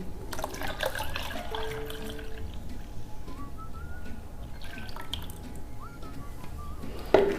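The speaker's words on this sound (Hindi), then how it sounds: "अब इसमें हम बाकी का दूध भी शामिल कर देंगे।" Milk poured into a smooth sohan halwa batter in a home kitchen, a soft steady liquid trickle that runs for several seconds at low level with faint background tones.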